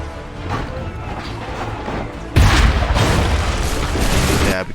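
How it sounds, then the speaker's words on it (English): A cannon fires in the Assassin's Creed III video game, landing as one heavy boom partway through and lifting the continuous roar of battle into a louder wash. "you like the cannon firing"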